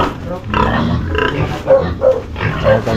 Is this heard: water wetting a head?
no